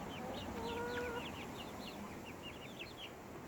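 Hens clucking, including Copper Marans, a Black Copper Maran and Welsummers, with soft repeated clucks and a few higher calls scattered over a steady outdoor background hiss.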